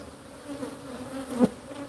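Honeybees swarm over an open hive, producing a continuous low buzz with a single bee flying close past the mic for a brief louder moment.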